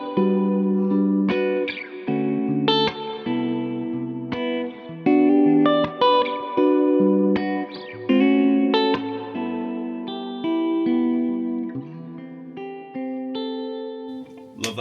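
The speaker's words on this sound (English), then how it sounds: "So we've got the neck and bridge humbuckers." Clean electric guitar, a '64 Gibson Trini Lopez Custom on neck and bridge humbuckers together, playing a sequence of chords and arpeggiated notes, warm and full, with a light echo and shimmer trailing each strum.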